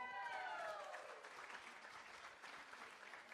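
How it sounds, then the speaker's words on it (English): A crowd at a charity gala claps steadily, a dense wash of applause that gradually softens, with a voice trailing off at the start. "Can we have a big round of applause for Jim?"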